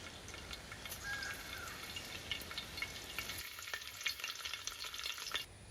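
Cloves, cardamom, cinnamon, green chillies and curry leaves fry in hot coconut oil for a chicken curry, a faint steady crackling sizzle that drops quieter partway through.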